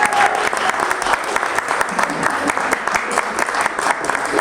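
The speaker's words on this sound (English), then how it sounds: "Please give a round of applause for Muffie." A theater audience at Portland Playhouse bursts into loud, close applause at the end of a performance, a thick continuous patter of many clapping hands that stays strong for several seconds.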